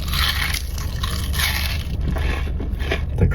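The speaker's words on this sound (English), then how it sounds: "The crunch is perfect on these." Close, loud crunching and scraping of someone biting and chewing crispy fries at a fast-food mukbang meal, continuous and dense with no talking.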